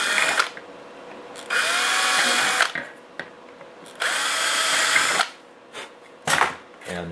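A power drill with a 1/8 inch bit whines in two long bursts of about two seconds each, drilling holes in a Tamiya model truck plate, close and loud, with quieter handling noises and short buzzes between them.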